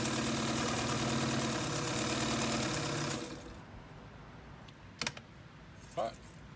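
A vintage Sears Kenmore Model 15812000 sewing machine stitches a zigzag on tricot, a fast rhythmic mechanical whirr for about three seconds before stopping, followed by quieter room sound and a couple of brief clicks.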